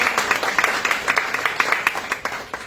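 A seminar audience claps enthusiastically, a fast, even patter of many hands with sharp individual claps standing out, steady and fairly loud from start to finish.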